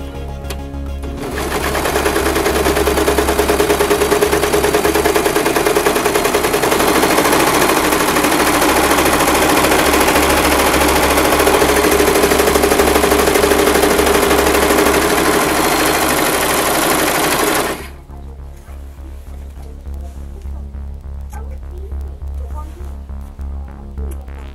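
A sewing machine runs steadily for about seventeen seconds while stitching a Christmas stocking, a loud, dense mechanical whir that cuts off abruptly, leaving a quieter low hum.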